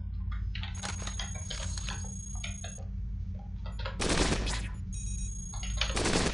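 Heavy rockets fire in the Cogmind video game as rapid, sharp bursts. Dense, clattering blasts come in close clusters, two long heavy volleys land near the end, and no voices are heard.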